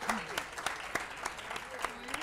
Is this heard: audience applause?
yes